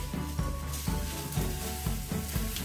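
Cumin and fenugreek seeds sizzle steadily in hot oil in a pressure cooker, a continuous close crackle with periodic soft stirring scrapes about every half second.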